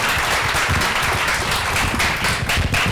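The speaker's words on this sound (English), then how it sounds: "Deserve a very big round of applause." Dense, steady applause from a crowd, many hands clapping at once without a break for a few seconds.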